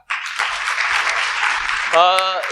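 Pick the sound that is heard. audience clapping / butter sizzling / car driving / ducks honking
audience clapping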